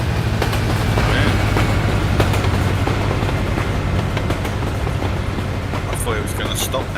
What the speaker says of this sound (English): barriers are going down. Are they? Yeah, they've gone down. Let's watch the train.